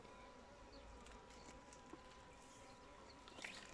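Steady honeybee buzzing at a hive fills the background as a continuous dense hum with occasional faint clicks and brief rises.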